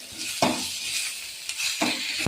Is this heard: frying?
yes